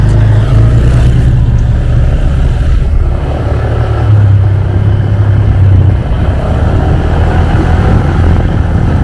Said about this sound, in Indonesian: Wah, ada mobil juga yang lewat.